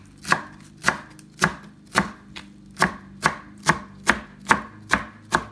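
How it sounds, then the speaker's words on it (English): A knife chops fresh cilantro on a cutting board in about ten sharp, evenly spaced chops, loud and close with no talking. "I'm going to prepare my cilantro too to be ready here."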